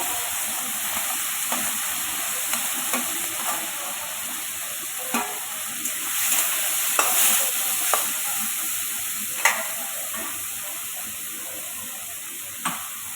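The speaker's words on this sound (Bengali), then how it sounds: "চিংড়ি মাছ পড়ে গেল কড়াইতে চিংড়ি মাছ একটু তেলে ভেজে নেব" Prawns frying in oil in a wok give a steady bright sizzle and hiss, with occasional sharp pops and stirring clatters scattered through it, close and continuous and with no voices.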